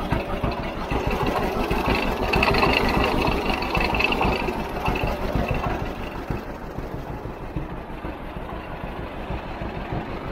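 A 1951 John Deere A tractor engine runs steadily close by, its slow two-cylinder putt-putt beating in an even rhythm throughout with no talk.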